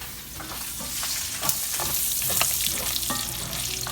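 Bacon fries in a pan with a loud, continuous sizzle, crackling pops and repeated stirring scrapes close up throughout.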